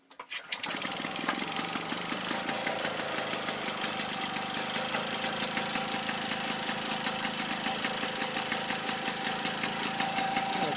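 An old Victa lawn mower engine starts and settles into a steady, rapid knocking idle, close and continuous after a short quiet start.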